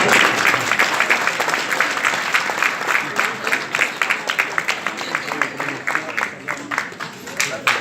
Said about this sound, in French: Il faut applaudir pour l'équipe, s'il vous plaît.